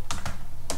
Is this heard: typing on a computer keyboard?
yes